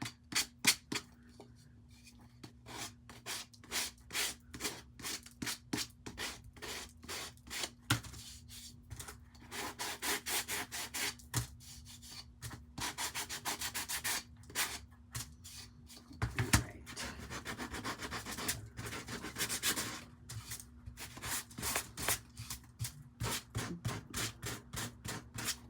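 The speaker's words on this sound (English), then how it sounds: "Let's take out my sander. I'm just going to sand the edges." An electric sander works the edges of a wood block in a steady rasping rhythm of repeated scrubbing strokes. It runs close and alone for the whole stretch.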